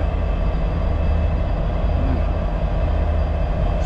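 A train at Cartagena railway station gives off a steady, low, droning rumble with a constant mechanical hum. It stays even and continuous, without breaks or voices.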